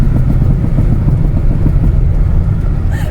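Turbocharged Mini's engine held between about 3,000 and 5,000 RPM while driving, a loud, steady, throbbing low rumble with no speech over it.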